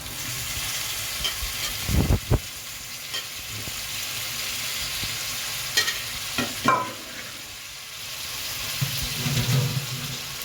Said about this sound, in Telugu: ఇప్పుడు చికెన్ వేసుకున్నాం కదా, ఒకసారి మొత్తం కలిసేలాగా ఒకసారి కలిపేసుకున్నాం